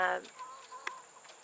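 Black Australorp chickens clucking inside a mobile chicken tractor moved through garden aisles, a short burst of close clucking at the start followed by faint, scattered cheeps and one sharp peck or chirp.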